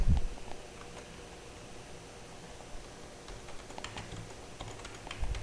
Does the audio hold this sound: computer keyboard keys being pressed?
yes